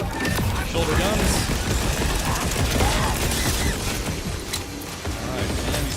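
Shoulder-mounted guns firing during a boss fight in Borderlands 4: loud rattling bursts and mechanical clatter amid explosive rumble, with someone talking over the action.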